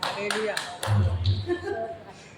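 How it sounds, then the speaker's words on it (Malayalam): A single person claps a few sharp, separate times during a church sermon, spaced hand strikes over a low murmur and voice in the room. "ഒരാൾ മാത്രം കൈയടിച്ചു"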